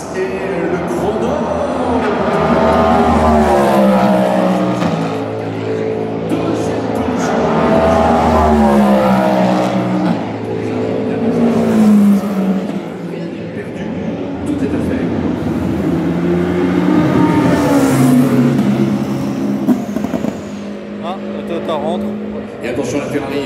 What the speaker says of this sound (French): La Cadillac qui passe et le chrono.